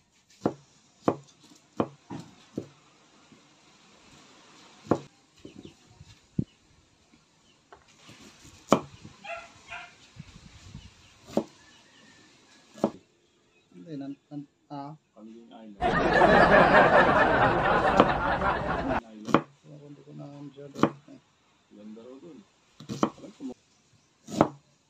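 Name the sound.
chopping onion, garlic and ginger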